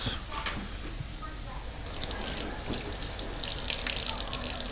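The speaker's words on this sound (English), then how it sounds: "Throw a little water in there." Water gushes and splashes steadily into a hot cooking pan holding salmon, a continuous pouring and sizzling wash that runs the whole time at moderate level.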